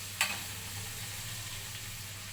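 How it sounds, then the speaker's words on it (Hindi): Potatoes fry in a pan and get stirred now and then so they turn crispy, with a sharp scrape near the start and a steady soft sizzle after, close and alone with no talk. "खोल के ऐसे चलाती रहूँगी, तब थोड़ी क्रिस्पी आलू हो जाएंगे"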